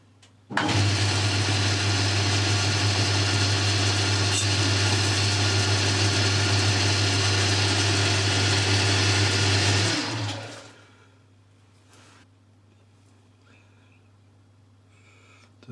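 Metal lathe or mill cutting a chamfer on a tramming gauge, a loud steady motor whine with cutting noise for about ten seconds before the machine winds down and stops, leaving quiet room tone.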